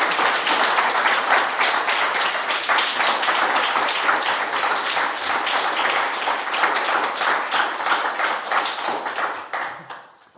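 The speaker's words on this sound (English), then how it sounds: "on n'arrête pas les applaudissements, c'est incroyable" Audience applause at a coding bootcamp demo day in Lille, dense sustained clapping from a crowd lasting about ten seconds before fading out at the end.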